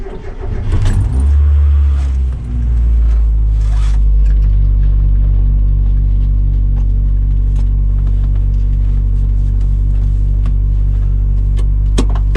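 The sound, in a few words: 1990s car driving on the road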